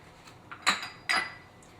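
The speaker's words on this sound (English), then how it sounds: "These little dishes with the butter in them, I'm going to throw them in the microwave" Small ceramic dishes holding butter clink twice on a kitchen counter near a microwave, two sharp close knocks with a quiet pause between.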